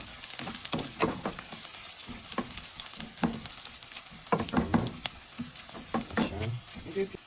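Sausage and onions sizzle in a frying pan, steady crackling spatter with repeated scraping and stirring strokes of a utensil, close and fairly quiet.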